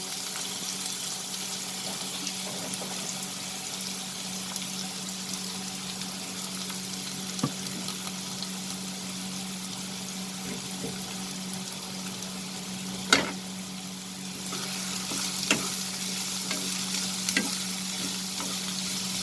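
Onion, carrot and green beans sautéing over a high flame for vegetable upma, a steady close sizzle over a low hum with occasional clinks and one sharp knock of the spatula against the pan.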